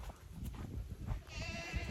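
Goats on a farm bleat at feeding time, with several overlapping calls over a busy, close background of shuffling animals; one clear, drawn-out bleat rises near the end.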